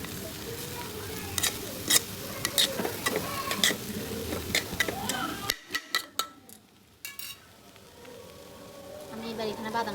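Bengali semai vermicelli gets stirred in a pan with a soft sizzle and clicking, scraping utensil strokes; the frying noise drops away halfway, leaving quieter scrapes.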